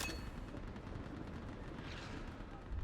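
Mounted gun firing in the video game Mass Effect 3, a steady dense stream of rapid shots with rumbling low-end blasts, continuous and fairly loud throughout with no talk.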